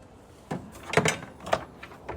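A drawer slides open with several rolling, rattling scrapes and soft knocks, close by and moderately quiet, with no talking over it.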